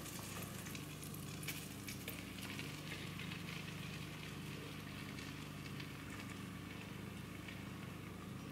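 Butter sizzles in a flat pan while Kaiserschmarrn is being made, a quiet, steady frying hiss that carries on alone with no break.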